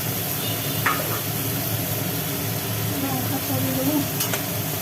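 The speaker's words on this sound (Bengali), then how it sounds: "মশলাটাকে সুন্দর করে কষানোর কাজ চলছে" Ginger and cumin paste frying in a pan for a prawn curry, a steady close sizzle with faint stirring scrapes throughout and no talk.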